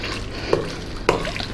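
Thick, dense Christmas pudding mixture is stirred in a bowl, a continuous wet churning with two soft thuds of the spoon, close up.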